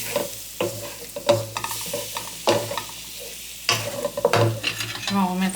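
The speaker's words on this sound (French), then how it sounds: "Je remue, bien comme il faut." Melon jam stirred in a pot: a spoon scrapes and knocks against the sides in uneven strokes over a thick, bubbling sizzle, close up and steady.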